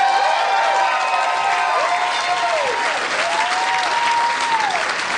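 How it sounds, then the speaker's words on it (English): Audience at a live comedy podcast show in a casino venue breaking into loud, dense applause with cheering, steady throughout, with a few whooping voices rising and falling over the clapping. "A big round of applause for Lacey for making this all happen."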